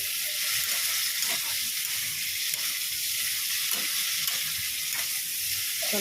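Spice paste being fried down (kosha) in a pan, producing a continuous dense sizzle with occasional soft knocks from stirring, close and fairly loud, with no talking.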